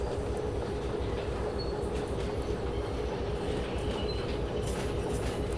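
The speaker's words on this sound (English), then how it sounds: "We'll just push this other train out into the main line." A train rolls on rails in the Derail Valley video game, giving a constant, fairly loud rumble with a steady low drone and faint rhythmic wheel clicks, with no talk.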